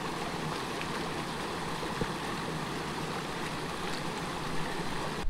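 A river flows during a solo bikepacking trip, a steady close rush of moving water filling the whole stretch at an even level, with no voices.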